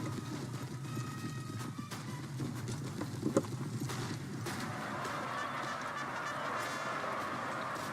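Cavalry horses of the chasseurs à cheval charge in the Napoleon Total War video game, a continuous rumble of galloping hooves with scattered clatter and honking battle noise, steady and moderately loud throughout.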